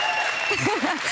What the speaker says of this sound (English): You can hear the crowd in the background, so shout out to you guys.